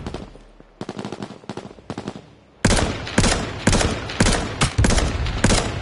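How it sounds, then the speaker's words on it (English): Rapid gunfire in the online battle game H1Z1 on PS4, several quick bursts that start quieter and distant, then turn loud and close in sustained automatic volleys. "Yo, I'm gonna shoot at him."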